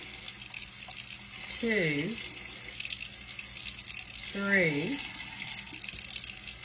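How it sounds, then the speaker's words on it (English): Tap water spooned a tablespoon at a time into four frothy beaten eggs, a steady close watery wash running under a voice counting aloud. "now it's time to put some water in our frothy eggs"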